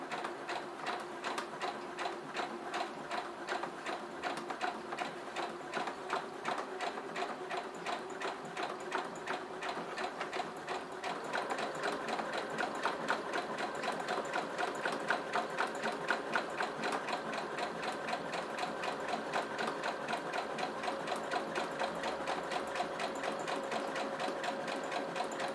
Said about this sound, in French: je couds tout le long, doucement pour que ce soit bien droit